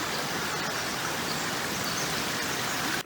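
A creek running beside a wide forest trail near a footbridge, heard as a steady, loud, broadband rush of flowing water that fills the whole stretch without pause and with no voices.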